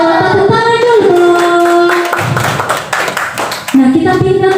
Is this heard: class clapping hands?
yes